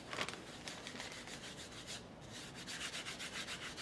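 Rhythmic, faint brushing strokes as dirt-toned paint is rubbed evenly into a stenciled painted background, steady scratchy back-and-forth scrubbing with no voices.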